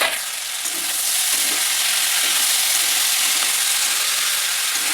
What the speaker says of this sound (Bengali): খুলে একবার নেড়ে দিব।